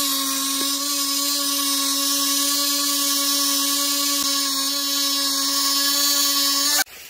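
A survival knife being sharpened produces a steady, loud mechanical whine with a constant pitch that holds unbroken for several seconds and then cuts off abruptly near the end.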